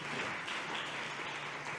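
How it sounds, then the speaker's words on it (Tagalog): A church congregation applauds the Lord during a preaching service, a dense, steady wash of many hands clapping at moderate loudness, with no talking over it. "Lahat po'y pumalakpak ng malakas sa ating mga Panginoon."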